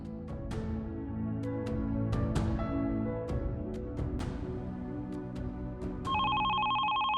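A telephone rings in a steady electronic tone near the end, following a series of bright plucked and struck musical notes that ring out and decay one after another.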